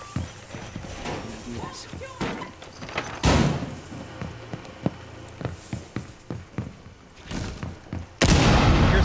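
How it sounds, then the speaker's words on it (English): Explosions and gunfire crack through a Rainbow Six Siege team deathmatch on the Oregon map, with sharp booming bursts at irregular intervals, a loud blast near the middle and another heavy burst at the end, over background voices. "Explosions on this side, east side."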